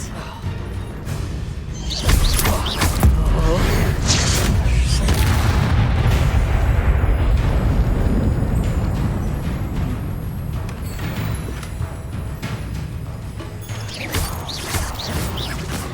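Spell blasts and explosions in the Hogwarts Legacy video game on PS5, a dense continuous barrage of booms, crashes and whooshes layered over game sound, loud and close throughout.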